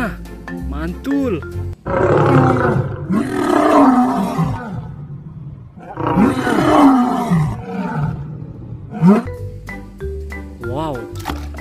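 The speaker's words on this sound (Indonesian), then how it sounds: "Ui, singa." A lion roars in a children's animal-cleaning toy or game, two long growling roars over background music and short tones.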